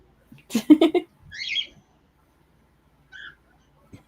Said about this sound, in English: Nobody minds loud birds.